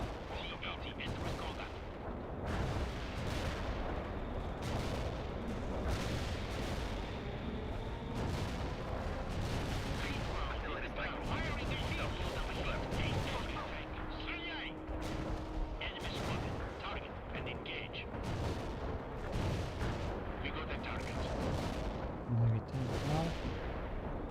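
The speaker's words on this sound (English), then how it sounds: "Heavy artillery strike fire." Sustained heavy artillery barrage in the real-time strategy game World in Conflict, with dense, overlapping booms and rumbling impacts rolling on continuously, loud and steady throughout.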